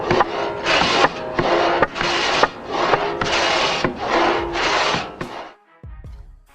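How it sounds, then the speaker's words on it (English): Two men work a pit saw through an oak log along chalk lines. Its rasping strokes come close and loud in a steady rhythm, about eight pushes and pulls, then the sawing stops. "The remaining half of the oak log is sawn precisely along the chalk lines snapped earlier."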